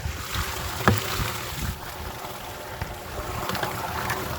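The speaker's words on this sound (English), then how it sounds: "We're gonna see how many gallons per minute this is flowing out of the spring." Spring water pours into a 5-gallon bucket outdoors, making a steady, close, broadband rushing wash that holds for the whole stretch with no talking.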